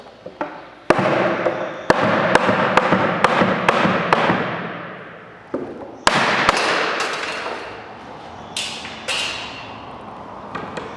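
Sharp knocks and bangs as the head is worked off a wooden wine barrel, a dozen loud hammer-like strikes at irregular intervals, each ringing briefly with a hollow resonance, close and with no talk.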